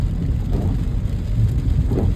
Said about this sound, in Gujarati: થોડો વરસાદ ઓછો થયો